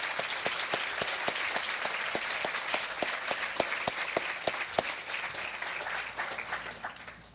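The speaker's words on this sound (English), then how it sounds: "I'd like to all now join in applause, thanking our family and friends" An award ceremony audience applauds steadily, with sharp individual claps standing out over a dense wash of clapping that slowly thins toward the end.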